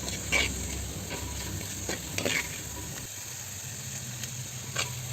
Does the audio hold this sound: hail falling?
no